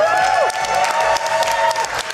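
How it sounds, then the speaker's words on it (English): Steady applause and cheering from a live crowd at a speedrunning charity marathon event, a dense wash of clapping with a few whoops rising over it. "let me hear it out there in the crowd for Whitman"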